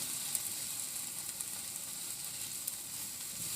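Onions sizzle in a hot frying pan, a steady, fine crackling hiss close up with occasional small pops, heard alone without talk.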